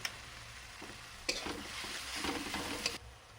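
Chopped onion and garlic fry in a pan at home, with a soft continuous sizzle that grows a little as a spoon stirs and scrapes through it, with several clinks against the pan.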